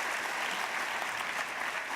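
Audience applause filling a large hall, a steady wash of many hands clapping at a fairly soft, even level throughout.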